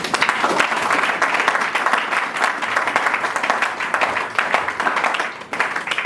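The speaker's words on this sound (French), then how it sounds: "On acclame Jésus." Congregation at a church service applauding and cheering for Jesus, dense steady clapping with crowd voices for the whole stretch, loud and close.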